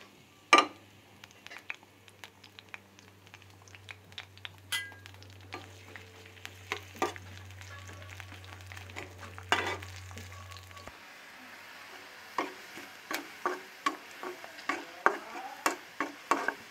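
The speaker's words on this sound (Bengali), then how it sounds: "এইভাবে ভেজে নেবে, এরকম বাদামি কালার হবে, ভেজে দিলাম।" Onions and garlic fry in oil for masoor dal, giving a close, steady crackling sizzle with sharp ticks and spatters, stirred now and then, with a low hum fading out partway through.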